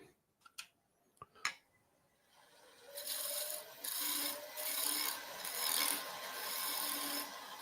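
Woodturning tool cutting a spinning workpiece on a lathe to flatten a taper, a few sharp taps first and then sustained rasping, scraping cuts in long strokes, close and steady.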